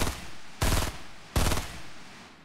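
Two loud, close bursts of rapid automatic gunfire in Fortnite, each lasting about a quarter second, with ringing tails between and after them and no voices.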